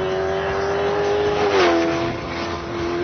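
Off-road buggy powered by a Lexus V8 driving on a wet, slippery track, its engine holding a steady loud drone that surges briefly in revs and then settles again, with no voices.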